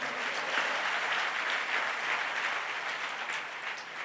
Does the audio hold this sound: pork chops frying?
no